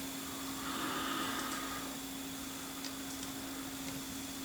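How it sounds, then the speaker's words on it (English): A kitchen extractor fan runs at a steady pace, a constant even whir with a low hum beneath it, holding an unchanging level throughout with no talking. "if I want to use that extractor fan, as there's no pull cord on it, I've just got to flick that switch."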